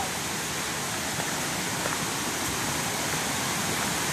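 A river flowing strongly near a spot with waterfalls, heard as a steady, loud, close rush of water that never lets up, with no talking.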